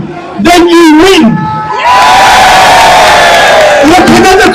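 A protest crowd in London cheers and whoops loudly, with shouts rising from the mass of people, while a single voice speaks loudly over the start and end of the cheering.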